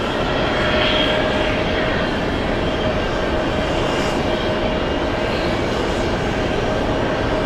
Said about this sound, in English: Flying to Anchorage, freighter heaven.